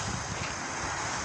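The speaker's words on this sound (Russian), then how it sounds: "Так, ветер меняется." Night wind blows steadily across the microphone outdoors, a constant broadband rushing roar with no breaks or voices.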